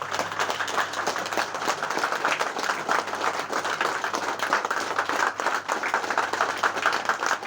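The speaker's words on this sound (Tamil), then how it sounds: "நாம் அனைவரும் எழுந்து நின்று ஒரு நிமிடம் கைதட்டுமாறு அன்போடு கேட்டுக்கொள்கிறேன்" A standing audience at an appreciation ceremony in Madurai claps steadily and continuously, a close, even crackle of many hands with no pauses.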